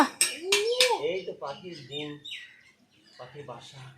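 A bird screeching near a nest with eggs, sharp loud chirps and squawks at first that fade into softer calls, with a voice mixed in.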